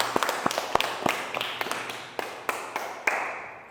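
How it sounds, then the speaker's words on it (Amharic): Children applauding themselves, a sparse scatter of about a dozen separate claps that thin out and fade over a few seconds in a quiet room. "ለራሳችሁ አጨብጭቡ።"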